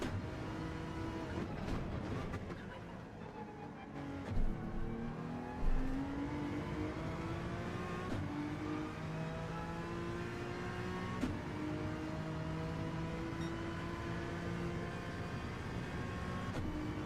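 Race car engine in Gran Turismo 7 holding a steady high drone with shifting revs and tyre whine through a drift, continuous and fairly loud throughout.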